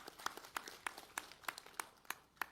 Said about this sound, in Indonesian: kita tepuk tangan untuk Kepala BNN